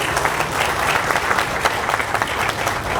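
Outdoor crowd applause at the I-15 Limonite freeway ribbon cutting, loud sustained clapping with scattered sharp individual claps, continuous for the whole stretch with no talk over it.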